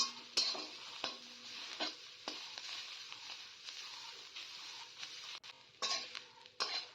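Quiet frying of dudhoron leaves with soft sizzling while a utensil stirs and scrapes a pan in irregular strokes, close by, no voices.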